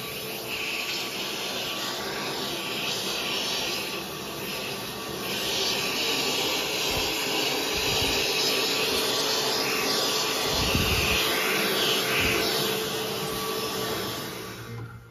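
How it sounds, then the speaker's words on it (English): A vacuum cleaner sucks up sawdust in a workshop while an arcade pedestal cabinet is being built, its steady loud whine running throughout with occasional low thumps as the nozzle moves. "make sure you always vacuum up your sawdust"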